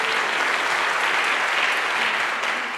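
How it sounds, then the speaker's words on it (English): Audience at a choir concert breaking into loud, dense, sustained applause that fills the hall evenly with no talk over it. "let's give her a round of applause."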